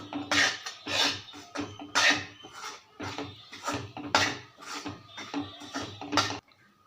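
Rhythmic scraping and rasping of a utensil working thick rice flour dough in a pot, repeated strokes roughly every half second, close and loud, stopping abruptly.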